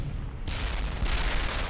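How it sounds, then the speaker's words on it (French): An artillery cannon fires in the World War II game Brothers in Arms: Hell's Highway, with two heavy, loud booms about half a second apart and a rumbling roar between them. "On neutralise ce canon là."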